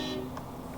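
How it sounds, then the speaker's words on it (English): A truck horn in the SnowRunner video game sounds a short honk with a steady tone that fades quickly, over a constant low engine rumble. "Celebratory honk."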